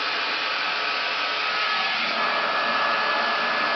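Hair dryer blow drying hair while a round brush turns through it, a steady loud airy whoosh with a constant motor hum, running without interruption and with no talking.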